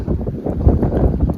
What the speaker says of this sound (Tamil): அதுதான் காற்று பயங்கரமாக அடிக்கிறதுங்க.